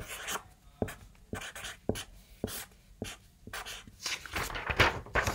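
A math equation is written out by hand: a pen or marker scratches in short, quick strokes at close range, with brief pauses between them and no talking.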